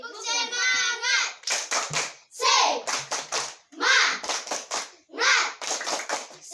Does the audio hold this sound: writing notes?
no